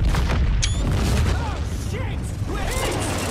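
A heavy boom in the Battlefield 1 video game as an aircraft blows up, a loud rumbling blast with mechanical clatter continuing under the dense battle noise.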